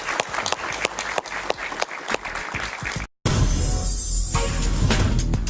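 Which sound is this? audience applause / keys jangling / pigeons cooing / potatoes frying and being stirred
audience applause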